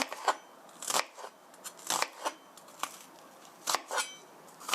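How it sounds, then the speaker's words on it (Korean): A knife cuts into an onion on a cutting board while making broccoli spaghetti, giving a series of sharp, crisp taps and slices at an irregular rhythm, close and moderately quiet. "그리고 양파 이렇게 칼집을 넣으셔서"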